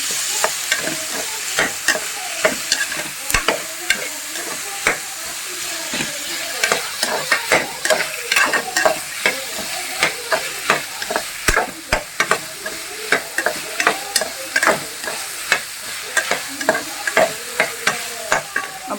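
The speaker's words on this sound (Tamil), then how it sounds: "இப்போ நல்லா ஃப்ரை பண்ணிக்கலாம் சும்மா ஒரு நிமிஷம்" Ingredients fry in a pan, producing a steady sizzle broken by regular, fairly loud spatula scrapes and taps that continue without pause and without any talking.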